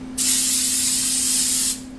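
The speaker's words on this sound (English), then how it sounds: "to give a very good coating of spray" A can of cooking spray hisses onto a hot waffle iron while gluten-free waffles are being made: one steady, loud burst of about a second and a half, set over a faint, constant electrical hum.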